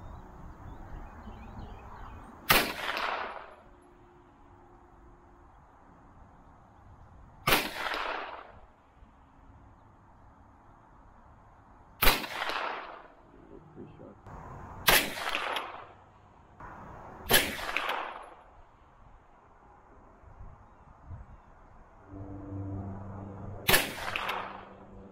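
Rifles being sighted in outdoors, heard as six loud gunshots spaced several seconds apart, each a sharp crack with a rolling echo over quiet background noise.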